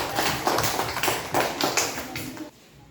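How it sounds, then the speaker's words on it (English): An audience at an afternoon talk on the butterfly life cycle gives a round of applause: dense, steady clapping from many hands that carries on for a couple of seconds, then drops away abruptly to a quieter tail. "So give yourself a round of applause"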